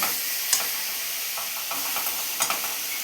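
Jaggery melts in a pan without water while a utensil stirs it, giving a continuous hissing sizzle with several soft scrapes spread through it, close and steady.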